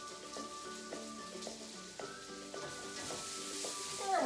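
Onion and kale sauté in a pan with a quiet continuous sizzle and soft stirring knocks, faint and close, rising slightly at the end.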